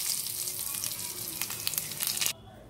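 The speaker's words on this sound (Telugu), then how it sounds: "వెల్లుల్లిపాయలను ఒకసారి ఇలా మ్యాష్ చేసి దీన్ని ఆయిల్లో డీప్ ఫ్రై చేసుకోవాలి" Crushed garlic, dried red chillies, fenugreek and cumin sizzle steadily in hot oil for a sambar tempering, a dense crackling hiss with scattered pops that cuts off abruptly near the end.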